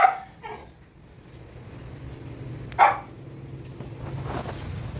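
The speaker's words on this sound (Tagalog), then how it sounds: "maingay yung aso" A dog barks once, sharp and fairly close, over a steady high electronic whine and low background hum.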